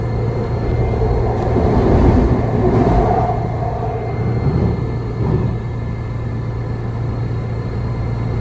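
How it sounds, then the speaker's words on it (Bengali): Passenger train riding from New Jersey to Philadelphia, a continuous low rumble of the carriage with swelling and fading rolling noise, heard from inside. "ট্রেন থেকে আমি নিউ জার্সি থেকে ফিলিতে যাচ্ছি"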